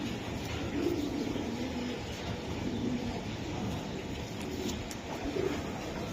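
Racing pigeons coo in low, steady murmurs from a loft of club birds, a continuous soft warbling bed with a few slightly louder coos rising at intervals.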